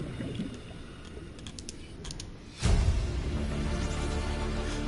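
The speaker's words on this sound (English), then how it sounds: "The noise was a crab squid." A crab squid creature cry from the underwater game Subnautica swells in suddenly partway through, loud, with a deep rumbling tail that holds over faint clicking and ambient underwater tones.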